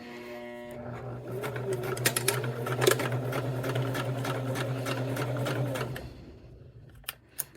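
A sewing machine stitches a quarter-inch seam along a cork strap in one steady, close, fast-stitching run of about five seconds. It then stops, leaving a few sharp clicks.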